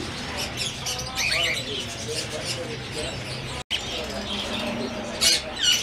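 A large breeder pair of pahari parrots calls at a busy bird market in Multan, with repeated chirps and squawks over a dense crowd din and nearby talking.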